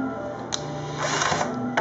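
Driver sinking a Kreg pocket screw into wood, a steady whirring motor drone with short sharp clicks near the start and end, close and moderately loud, with no talk.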